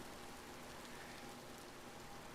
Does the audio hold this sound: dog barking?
no